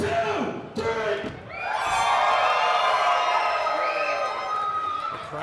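Arena crowd at a professional wrestling show roars and cheers loudly and continuously after a countdown, with whoops and shouting swelling and holding near; a voice talks briefly at the start.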